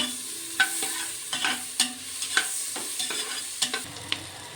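Palak rice ingredients, with onion just added, being stirred and fried in a pan: a steady sizzle under a run of sharp scraping strokes at an irregular pace, close and clear, with no talking.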